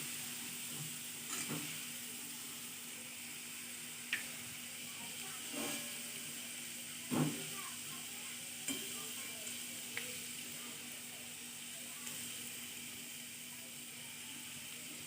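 Potato chivda, a fasting snack, frying in a pan over a medium gas flame: a faint, steady sizzling hiss with occasional soft clicks and stirring knocks.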